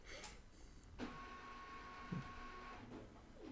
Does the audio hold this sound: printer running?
yes